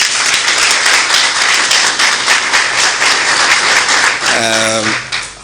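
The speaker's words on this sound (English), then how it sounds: "Let's give her a round of applause." Loud, sustained applause from a crowd at a political event unveiling a running mate, steady throughout and tapering off at the end.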